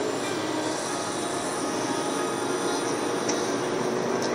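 A passing train carrying travelers, a steady loud rumble of rail cars with faint wheel squeal running throughout, close and continuous with no talk.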